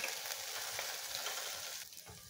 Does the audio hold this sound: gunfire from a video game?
no